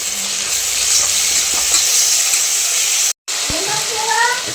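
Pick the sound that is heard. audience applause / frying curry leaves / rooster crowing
frying curry leaves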